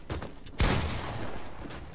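A video game gunshot gives one loud, sharp crack followed by a lingering, noisy tail that fades out, with no talk over it.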